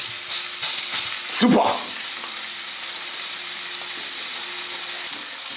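Steady frying hiss of burger patties in a hot pan with bacon fat, with a brief scrape and burst of sizzle near the start; a voice says one short word.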